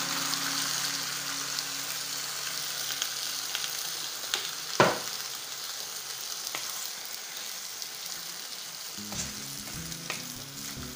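Food stir-fries in a wok with a little added water, a steady near hiss of sizzling broken by scraping stirs and a sharp clank midway, no voices.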